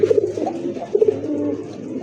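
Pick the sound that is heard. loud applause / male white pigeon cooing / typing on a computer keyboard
male white pigeon cooing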